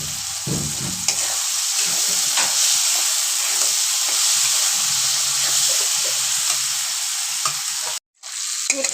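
Dried fish being fried and stirred in a pan for a dry fish chutney, with a steady loud sizzle and hiss and intermittent scraping stirs throughout.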